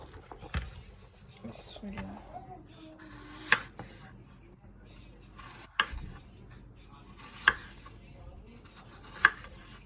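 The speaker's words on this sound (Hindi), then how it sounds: "अब इनको डाइस में काट लेते हैं।" Peeled apples are diced with a knife, giving a few sharp, separate knocks spaced about two seconds apart over a quiet, soft background.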